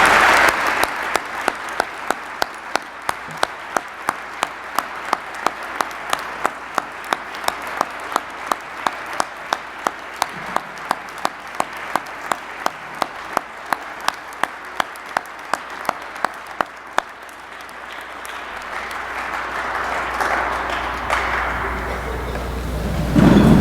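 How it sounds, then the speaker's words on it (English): Audience applause fills a hall during a college sports hall of fame induction ceremony, sustained and steady for about twenty seconds with scattered individual claps, then thinning out into a murmuring crowd as it fades. "How about one more huge round of applause for all 3 of our inductees today."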